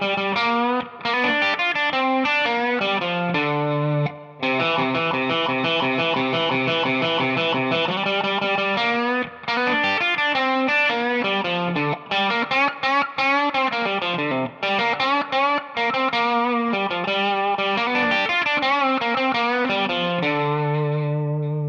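Distorted electric guitar plays a blues melody, with bending single-note phrases, double stops and steady rhythmic figures running continuously and up close with no talking.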